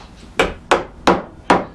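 A wooden vertical muntin being tapped into a mortise, four firm, evenly spaced knocks close by, each with a short decay, and no talking.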